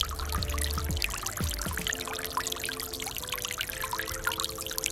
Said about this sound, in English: Put the pump in the water, and it will automatically turn on when the sensor sends the water level.